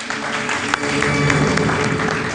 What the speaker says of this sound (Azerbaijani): Və bu alqışlar Nigar xanım üçündür.